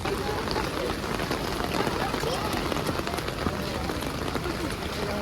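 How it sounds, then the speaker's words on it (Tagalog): Heavy rain in Singapore roars steadily as a dense, uniform wash of noise with no break, and people talk underneath it. "It's really, really raining."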